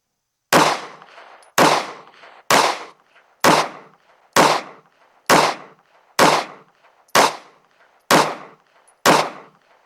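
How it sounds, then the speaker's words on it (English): Ten pistol shots from an Anderson Kiger-9C firing PMC Bronze 115 grain rounds, loud and close, evenly spaced roughly a second apart, each a sharp crack with a brief decaying echo. "this time we got 10 rounds of PMC Bronze 115 grain loaded up. Let's shoot a group at that top left target."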